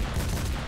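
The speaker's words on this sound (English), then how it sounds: "What's up with that assault rifle?" Assault rifle fire in a multiplayer shooter game, a dense, continuous burst of rapid shots with heavy low-end thump, loud and close, with no talk over it.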